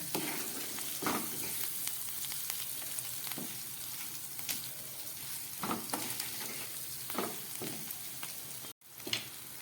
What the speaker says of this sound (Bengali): এই আলুর মধ্যে আমি এই ভাজা পটলগুলো দিয়ে দিচ্ছি, দিয়ে এবার এটাকে খুব ভালো করে একটু কষিয়ে নেব।